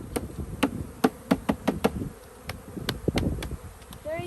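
Honey bees buzz around a nuc hive frame as it is shaken, a steady close drone punctuated by sharp rhythmic knocks and taps from the frame.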